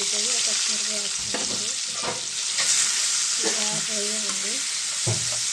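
Oil frying for fish curry, a loud, steady sizzle close by, with spoon scrapes and faint background voices and sounds mixed in.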